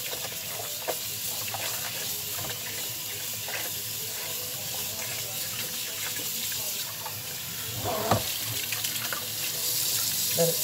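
Cold tap water runs steadily into a sink while pork sirloin is rinsed, a constant close hiss and splash with a few handling clatters and a brief surge near the end.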